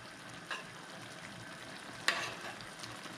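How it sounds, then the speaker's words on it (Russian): Sauce for veal brains frying in a pan over high heat with a constant crackling sizzle, punctuated by a couple of sharper pops or stirring clinks. "Буквально еще 10-12 минут мы его жарим"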